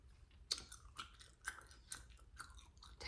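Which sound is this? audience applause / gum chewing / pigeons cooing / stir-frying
gum chewing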